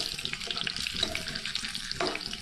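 Oil for deep frying in a home cooking demonstration, bubbling and crackling in a steady, dense sizzle that continues without pause, close by and moderately loud.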